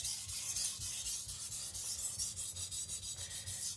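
Tojiro Shirogami nakiri knife being sharpened on a whetstone, a steady rhythmic scraping and rasping of steel on stone with repeated back-and-forth strokes, close and fairly quiet with no talking.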